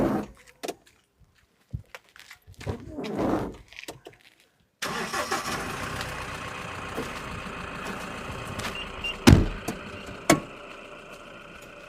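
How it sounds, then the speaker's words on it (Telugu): A Mahindra Bolero pickup's engine cranks and catches, then settles into a steady running rumble that continues to the end, fairly close, with a couple of sharp knocks and faint background sounds before the start. "చలో బండి స్టార్ట్ చేసి వెళ్తున్నా"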